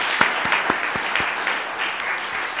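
An audience applauding guest scholar speakers at a lecture on Jewish and Catholic natural law, a steady dense round of clapping with some sharper individual claps standing out near the front.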